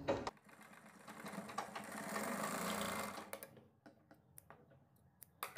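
A domestic sewing machine stitching a blouse seam runs in a short steady burst of about a second, framed by a few sharp clicks and handling taps, with quiet pauses before and after.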